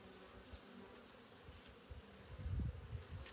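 Honeybees buzzing in a soft, steady drone as frames are moved one by one into a new hive, with a few louder low swells of nearby bees toward the end.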